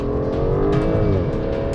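Tesla Model S Performance and Aston Martin DBS launching off the line in a drag race, a loud sustained engine roar with rising revving tones and tire noise, close and without talk.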